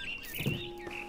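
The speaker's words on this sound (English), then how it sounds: "Then I heard chirping outside my window. It was a barn swallow going back to her nest." A barn swallow chirps outside a window in the video game What Remains of Edith Finch, giving a few faint, brief high tweets over a soft, steady background hum.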